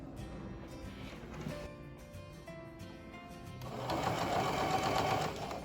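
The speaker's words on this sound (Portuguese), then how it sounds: "nós vamos fazer um pesponto em toda a volta dela" A sewing machine topstitches around the edge of a bag, its needle hum running steadily and getting louder and busier toward the end.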